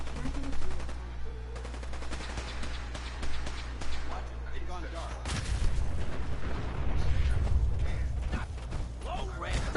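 Rifle fire from a combat rifle in the Fallout 4 video game, bursts of gunshots and mechanical clatter running through the clip under game noise, with a player talking over it.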